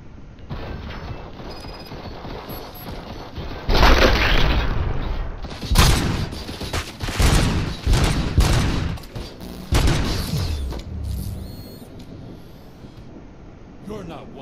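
Gunfire rattles in the Robocop Rogue City video game, loud bursts and repeated shots in clustered volleys with booms, alongside game voices.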